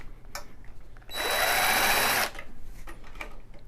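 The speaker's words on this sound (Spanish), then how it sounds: "yo estoy usando el taladro por cuestión de rapidez" A power drill whirs at high speed for about a second, close and loud, between quieter handling noises, during an electrical wiring installation with EMT conduit.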